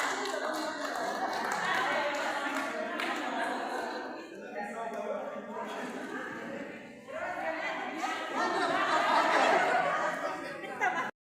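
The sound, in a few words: audience applause at volleyball award ceremony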